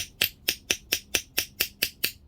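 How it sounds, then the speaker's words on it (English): Hammer tapping a socket onto a part of a Honda Z50 motorcycle during a CDI conversion kit install: about ten crisp, evenly spaced metallic taps in quick succession, close and clear. "I'm going to take my hammer like this. I'm just going to tap it in"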